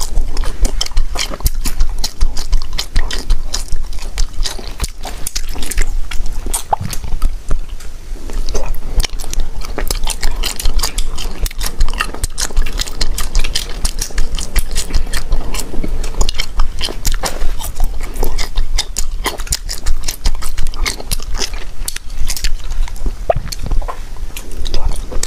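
Close-up ASMR chewing of wax bottle candy filled with strawberry jam: a continuous stream of sticky, crunchy bites and squishy chewing clicks, dense and near throughout.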